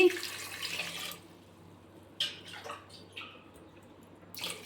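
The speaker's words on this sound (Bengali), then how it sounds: "এই দেখুন, 2 গ্লাস জল দিচ্ছি।" Water poured from a glass into a cooking pot of washed potatoes for a Gujarati snack: a loud, splashing pour for about a second, then quieter drips and small splashes.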